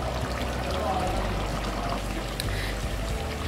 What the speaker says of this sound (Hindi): इसका शोरबा बनाने के लिए इसमें थोड़ा सा पानी ऐड करेंगे